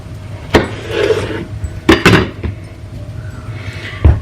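A knife slices through food on a cutting board in a home kitchen, giving a few sharp knocks and scraping rubs spaced about a second apart, close and fairly loud with quiet gaps between strokes.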